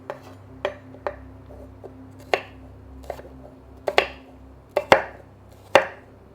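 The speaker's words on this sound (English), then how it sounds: "sometimes we'll cut garlic slices like this" Knife slicing garlic cloves into thin slices on a cutting board, a series of about ten crisp, separate chops at an uneven pace, close and fairly loud over a faint low background hum.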